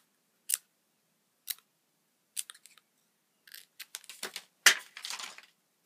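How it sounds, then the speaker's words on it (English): Scissors snip zigzags into purple paper: a series of crisp, close cuts, single snips at first, then quicker clustered snips toward the end, with no talking. "So I'm just going to cut some zigzags like this."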